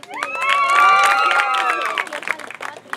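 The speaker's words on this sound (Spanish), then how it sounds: "Grito y aplauso si creen que ganó ella." A lively crowd at a festive afternoon gathering in Cantón Ciricuario bursts into shouts and whistling cheers with scattered clapping, loud at first and fading over a few seconds.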